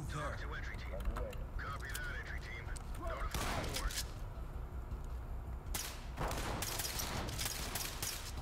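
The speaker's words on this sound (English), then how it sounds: "shooting us through the freaking wall, dude" Sharp, cracking shots of in-game gunfire in Ready or Not, coming through a wall, hit in scattered bursts with one dense volley late on, mixed with voices and busy game noise.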